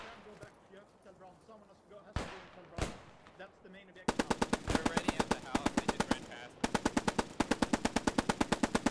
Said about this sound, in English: The brain gun opening fire now, some suppression fire going down.